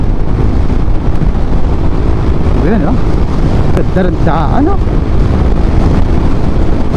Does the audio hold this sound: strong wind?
yes